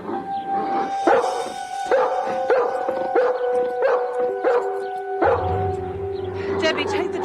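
A dog yips and barks in short repeated bursts close by, mixed with lively music and people talking over it in an indoor scene.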